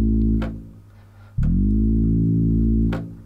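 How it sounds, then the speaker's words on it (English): Sustained synthesizer tone with a long release, recreating the War of the Worlds tripod sound: held harmonic drones that swell, then slowly fade out rather than cutting off, with a brief pause between two notes. "So you can hear the sound is just staying a little longer and fading out."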